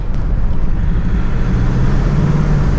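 Cummins 2.8 diesel truck, just repaired after an injector fault, driving along a mountain road, its steady engine drone and road rumble continuous and close with no pauses.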